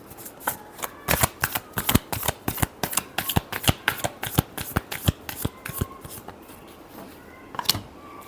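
A deck of tarot cards is shuffled close up in a quick run of crisp riffling bursts, then a pause before a final flurry.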